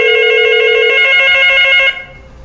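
An analog telephone on Yeastar extension 8011 rings loud and close with a bright, steady electronic tone that cuts off abruptly near the end, leaving quiet room noise.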